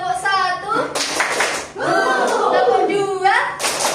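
A class claps a rhythmic clap game in bursts of quick clapping between children's voices, with a lively chanting feel in a classroom during a micro-teaching practice lesson.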